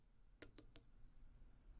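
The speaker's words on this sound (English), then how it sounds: "he saw this bell begin to swing" A hanging bell starts to swing and ring: a bright first strike, then a couple of lighter taps, leaving a clear high tone that sustains alone in quiet surroundings.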